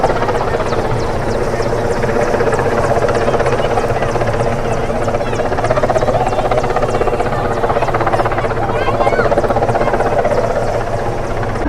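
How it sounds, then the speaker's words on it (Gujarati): A helicopter roars steadily overhead in Rajkot, its loud rotor thrum and engine whine filling the whole stretch without pause. "ગયો હેલિકોપ્ટર ગયા હેલિકોપ્ટર હેલિકોપ્ટર જો જાય"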